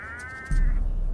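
Domestic goats in snow leopard country in the mountains give a wavering, quavering bleat, then a low rumble of wind or movement takes over.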